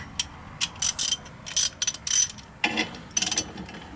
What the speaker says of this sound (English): There's a ratchet.